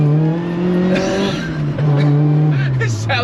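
A supercharged Honda Prelude track car revs, its engine note climbing and falling in rising harmonic sweeps that sound loud and close, with tire noise and a voice partly mixed underneath.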